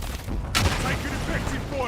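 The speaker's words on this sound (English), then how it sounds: "Taking effective fire." Gunfire in Call of Duty: Warzone breaks out as a sudden sharp burst, followed by rattling shots that carry on beneath a voice.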